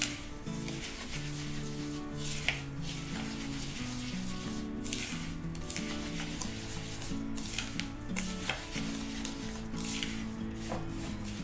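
Sugar scrub mixed with red and yellow food coloring is stirred in a bowl, giving soft repeated gritty scraping and rubbing strokes at close range, fairly quiet, with no talking.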